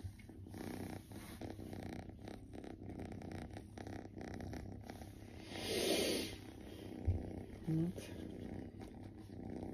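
A cat purrs on a person's lap, a soft, low, continuous rumble close by, with a few brief louder snorts and a short spoken word over it.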